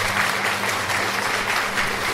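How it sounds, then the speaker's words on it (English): Steady, dense applause from a group, loud and close, sustained without pause across the whole stretch. "Yep, clap that shit up."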